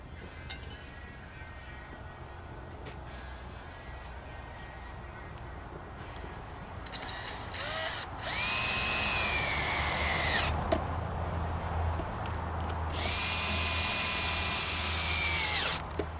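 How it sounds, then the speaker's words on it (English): A power drill boring pilot holes into a kindling splitter mount, heard as two long loud whining bursts after quieter handling sounds, with no talk over it. "we drilled a couple of pilot holes in there"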